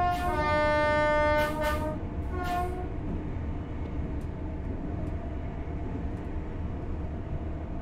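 Class 805 train horn sounding at a whistle board in Train Sim World 4, two loud sustained blasts in the first three seconds over steady rumbling cab and rail noise that continues afterward.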